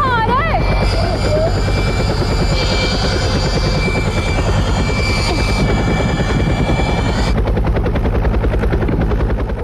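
A helicopter passes overhead, its rotor thudding loud and steady for the full stretch, with voices and other sounds layered over the drone.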